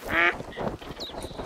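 Ducks in the hunting game The Hunter: Call of the Wild give one loud, nasal quack up close, followed by softer, fainter calls and rustling sounds in the background.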